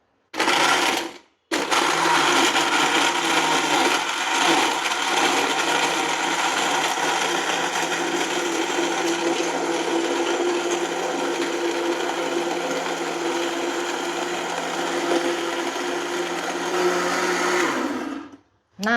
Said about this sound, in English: Now I press the button to turn the blender on.